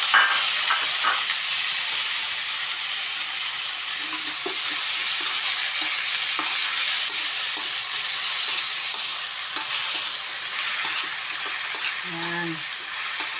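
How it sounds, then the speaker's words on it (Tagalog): Shrimp fries in a pan of sautéed string beans and squash, giving a steady, close sizzling hiss with occasional soft clinks of stirring. "ilagay na natin itong hipon"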